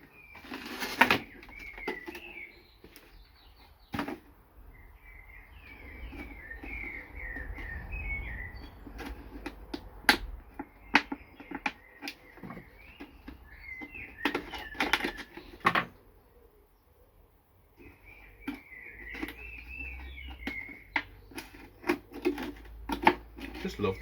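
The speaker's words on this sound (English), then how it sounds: "Just love the sound of those little birds." Small birds chirp in short repeated bursts in the background while a person talks and handles materials to make hanging bottle planters, with frequent clicks and taps up close.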